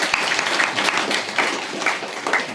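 A church congregation claps in encouragement during a Christmas service, giving close, loud, steady applause with a few sharper individual claps standing out, and no speech over it.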